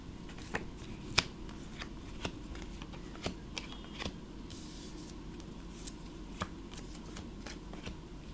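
Tarot cards are shuffled by hand with quiet, irregular snaps and riffles over a soft, steady background hiss.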